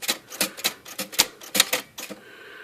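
Smith Corona typewriter type bars strike in a quick, uneven string of about a dozen close, sharp clacks, trailing into a soft mechanical hum.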